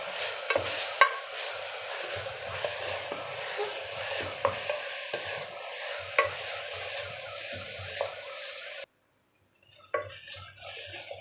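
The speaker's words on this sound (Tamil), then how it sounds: "இப்போ இது கூட ஒரு கொத்து கருவேப்பிலை, அதையும் போட்டு நல்லா வதக்கலாம்." Curry leaves and onions sautéing in a pan for tomato kuzhambu give a soft, low sizzle with repeated spatula scrapes and light clinks, cutting briefly to silence before stirring resumes; nobody speaks.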